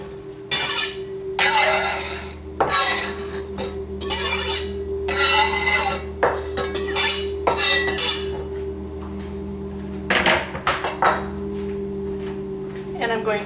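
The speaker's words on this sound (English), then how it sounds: "I'm going to add my chopped up herbs" Chopped herbs tossed in a pan on an induction stove, with repeated scraping and stirring of a utensil against the pan in bursts over a steady electric hum, plus a few clinks, no talking.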